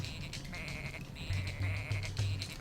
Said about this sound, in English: If you spam the B button, it makes the sheeps make noises.